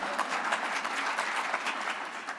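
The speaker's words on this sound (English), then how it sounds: "so please clap more hands" At a plenary session of an industrial efficiency conference, an audience gives steady, moderately faint applause, a continuous patter of many hands throughout.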